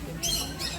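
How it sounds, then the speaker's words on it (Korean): A parrot at a tropical rainforest experience farm gives two harsh, high squawks close by, the first longer and the second shorter, over low background rumble. "앵무새 다시 오라 할까?"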